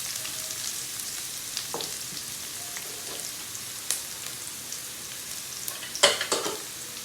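Pork for dinuguan sautéing in a pan, giving a soft, steady sizzle with a few sharper crackles and clinks near the end, no talking.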